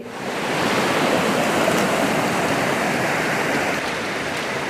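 An overflowing stream in Güreşen village, Borçka, Artvin, rushes loudly and continuously, a steady broad roar of churning floodwater with no voices.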